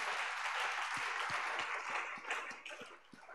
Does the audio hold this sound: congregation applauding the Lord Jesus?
yes